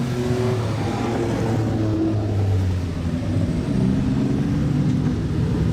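Junior sedan race cars at a speedway during a restart under yellow lights, a steady dense engine drone from several cars at a distance, continuous with no talk.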